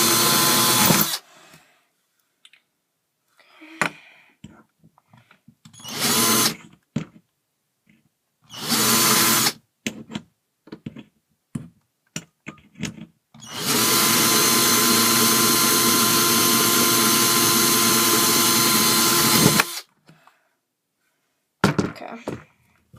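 Power drill boring holes in a can for a homemade penny stove, several short whirring bursts and then one long sustained run, close and loud, with knocks and handling clatter in the gaps.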